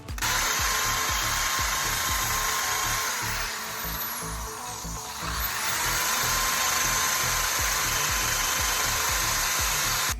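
A handheld drill spinning a wire wheel grinds rust off worn Mazda RX-7 FC parts, a loud continuous whirring scrape with rhythmic pulsing as the brush bites, easing briefly midway before resuming at full strength.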